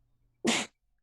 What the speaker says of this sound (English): I'm just seeing Shadow just sneezing